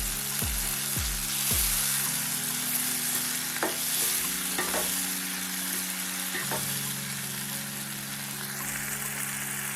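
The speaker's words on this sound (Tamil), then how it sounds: "உப்பு சேர்த்தா தக்காளி சீக்கிரமாக வதங்கிடும்" Chopped tomatoes with salt sauté in a pan for drumstick curry, an even sizzle with a few spatula knocks early and soft hollow clinks throughout, with no voice.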